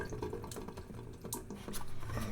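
Water draining back down through a newly installed UV water filtration system, a close gurgling trickle with drips and splashes, fairly loud and continuous, no one talking.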